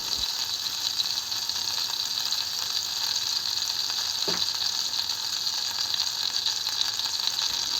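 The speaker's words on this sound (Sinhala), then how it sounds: "පොඩි පෑන් එකක් මදගින්දරේ ලිපේ තියලා බටර් තේ හැඳි දෙකක් එකතු කරගෙන බටර් ටික හොඳට රත් වෙනකන් තියලා තියන්න" Two teaspoons of butter heating in a small pan on a stove over medium heat give a steady, even sizzle and crackle throughout, close and moderately quiet, with one brief clink partway through.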